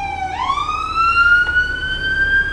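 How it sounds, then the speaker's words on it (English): An ambulance siren wails close by, a single rising tone that climbs and holds steady as the vehicle passes, clear and loud over light background noise, with no talk. "Ambulance is coming back."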